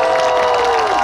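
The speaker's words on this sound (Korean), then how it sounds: "자, 다시 한번 힘찬 박수 부탁드리겠습니다" An audience cheers and applauds after a traditional Korean dance performance by a temple troupe at a lantern festival, with a loud burst of clapping and voices and a sustained tone running through it.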